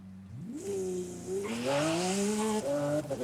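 A Lamborghini SVJ in Forza Horizon 5 launching hard, its engine revving up in rising steps through the gears while the tires squeal, close and loud, with no talk.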